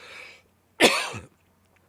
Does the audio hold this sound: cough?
yes